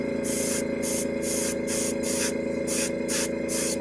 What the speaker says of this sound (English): And I just pulse fire, just spray a little bit.